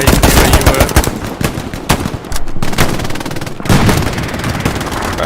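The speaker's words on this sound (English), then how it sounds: "I can hear more gunshots." Heavy gunfire rattles through the World War II shooter Hell Let Loose: loud automatic bursts and sharp single shots crowd together, with a few deeper booms mixed in over roughly five seconds.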